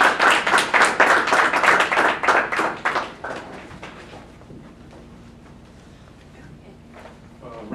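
An audience at an alumni reading applauding, a dense burst of clapping that fades out over a few seconds into quiet room tone with a faint hum.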